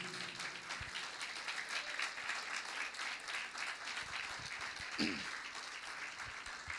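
A church congregation applauds in praise, a sustained wash of many hands clapping at moderate distance, fairly quiet and continuous with a few sharper claps standing out.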